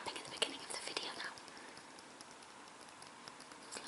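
Fingernails tap on glossy magazine pages in a quiet room, making a quick cluster of light, crisp clicks at the start that thin into soft scattered taps, while a voice whispers close by.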